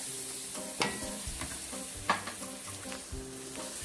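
Onions and peppers sizzle in a pan for chicken and sausage gumbo, a close, steady frying hiss broken by a few scraping stirs.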